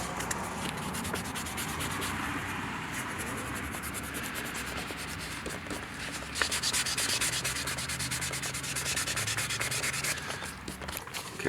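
Steady hand sanding on a scratched Toyota Tacoma bumper, a continuous abrasive rasping with rhythmic back-and-forth strokes that grows slightly louder partway through.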